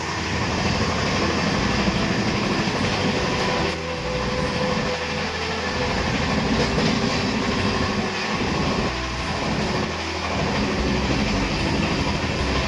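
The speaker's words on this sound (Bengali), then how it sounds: "কত স্পিডে ট্রেনটা যাচ্ছে দেখুন।" A train rushes along at speed, a loud continuous rumble with faint rhythmic clatter of wheels on rails and no voices, heard from on board.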